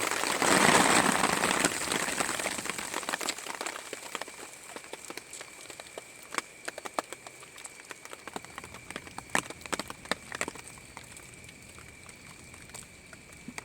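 Rain patters steadily with scattered sharper drops, and a gusty rush of wind swells at the start before easing.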